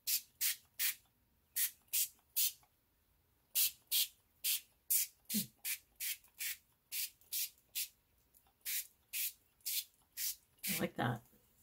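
Perfect Pearls heirloom gold mist sprayed in a run of short, sharp hissing pumps, close and steady, over a faux leather craft piece, with a brief voice near the end.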